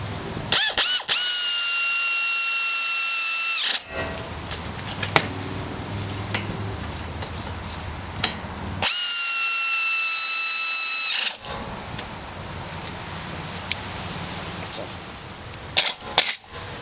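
A power tool tightens 12 mm brake caliper bolts on a Honda or Acura Integra front brake. It gives two loud, steady whining bursts with metallic clatter and handling noise between them.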